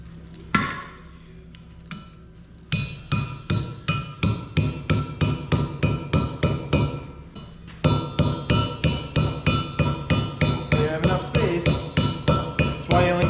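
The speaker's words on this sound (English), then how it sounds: "you want to hammer on it" Loud metallic hammer blows ring out in rapid, steady series of strikes, pausing briefly between bursts, while fitting a Muncie 4-speed transmission to a 1976 Corvette 350 small-block.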